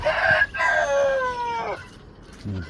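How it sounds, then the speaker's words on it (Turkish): An Indian (Hint) breed rooster crows once, loud and close, in a drawn-out call that tails off, followed by a brief low cluck. "Güzel bir Hint tavuğu."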